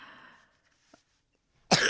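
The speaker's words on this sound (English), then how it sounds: "Also, I'm coughing." A single loud, close cough bursts out alone near the end after a quiet pause, preceded by faint breathy murmur and a tiny throat sound.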